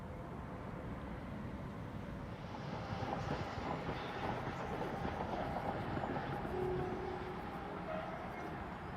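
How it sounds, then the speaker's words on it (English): A fairly new train running along an old railway line, a continuous low rumbling roll heard from some distance that swells a little in the middle and holds steady, with no voices. "That's the old one, taking a rather new train."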